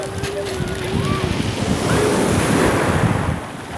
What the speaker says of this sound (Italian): Veramente bello, il mare un po' mosso però.